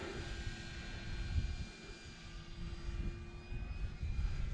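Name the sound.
E-flite Air Tractor RC plane motor running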